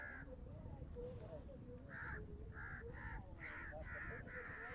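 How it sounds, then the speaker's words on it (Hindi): Crows cawing repeatedly in short harsh bursts, several in a row, in a village on the first day of Eid al-Adha, over a steady background hum with faint murmuring voices. "उस साइड पे कौवे जो है ना उन्होंने भी काफ़ी ज़्यादा मचाया हुआ भी शोर"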